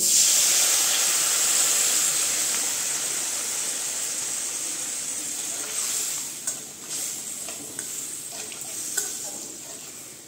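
Spice masala frying in a pan for a Bengali egg curry bursts into a loud steamy sizzle as water is added, the hiss slowly easing with occasional stirring scrapes and pops.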